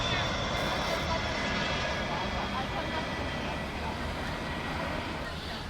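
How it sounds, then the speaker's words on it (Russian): Airliner from Paris Charles de Gaulle coming in to land over the beach in Nice, a loud, steady jet roar that holds for the whole stretch with a faint voice underneath. "летают самолеты над пляжем. Заходит на посадку рейс из Парижа, Шарль-де-Голля"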